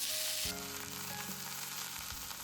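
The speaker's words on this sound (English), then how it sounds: "I mix and stir fry them for a few minutes" Hijiki seaweed, daikon and konnyaku stir-fry in a pan, giving a continuous sizzle with soft stirring scrapes near the microphone and no talking.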